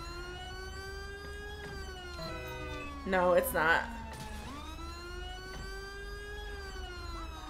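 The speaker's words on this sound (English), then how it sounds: "Is this the vehicle that the siren is going on?" A police siren wails in GTA 5 with the LSPDFR police mod, a loud close tone that rises and falls, breaks into a brief warbling yelp midway, then steadies again, with a voice speaking over it.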